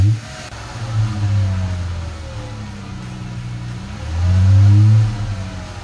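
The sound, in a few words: 2015-2017 Dodge Challenger V6 engine revving as gas pedal is pressed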